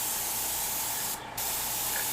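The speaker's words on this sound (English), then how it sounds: "when I'm doing this, I'm spraying really light" An airbrush sprays paint in light passes, producing a steady close hiss with a brief dip in the middle before the spray resumes.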